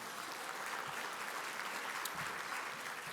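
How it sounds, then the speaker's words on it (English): Audience applause at an ethics awards ceremony, a faint, distant, even wash of clapping sustained throughout. "Let's give a big round of applause for Lisa and her team."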